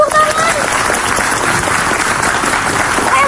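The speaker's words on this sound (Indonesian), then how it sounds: "Masya Allah, tepuk tangan" An Indonesian television studio audience claps for a young Quran memoriser, loud, sustained and dense applause filling the space, with voices faintly mixed in.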